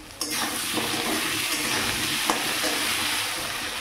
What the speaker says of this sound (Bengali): আর আলুটা ততক্ষণ আমি ভেজে নিই।